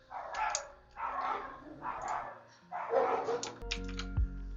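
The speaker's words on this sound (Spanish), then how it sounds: "Re enojado el perro ladrando" An angry dog barks in repeated harsh bursts, about four rough barks at a steady pace, fairly close and loud, followed by a short clatter.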